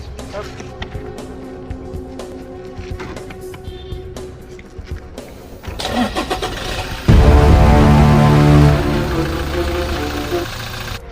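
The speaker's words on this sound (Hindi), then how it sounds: "चलो गाड़ी स्टार्ट करो।" A car engine cranks and catches, turning over with a loud roar that settles into a steady rumbling idle after clicks and shuffling; voices talk at the start.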